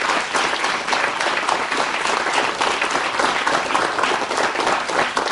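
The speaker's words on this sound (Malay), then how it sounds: "Tepukan kepada Liao." A studio audience at a campus talk show applauds a panelist, dense continuous clapping, loud and even throughout with no clear voices.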